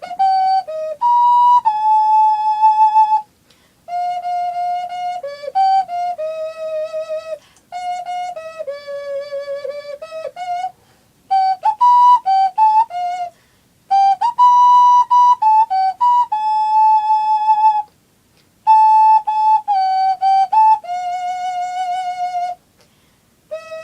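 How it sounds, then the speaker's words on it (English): Breathy, whistle-like ocarina tones carry a slow, lyrical Disney ballad melody from Pete's Dragon, played alone in phrases of held notes separated by short pauses. "So now I've had my little ocarina rant, I shall play a song for you."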